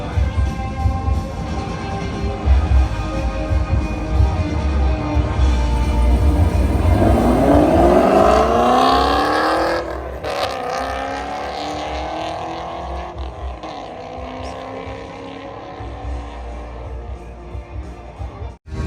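A 6.2 liter car and a 2 liter car racing on a track, loud engines roaring and revving close by with rising and falling pitch as they pass, sustained and continuous throughout.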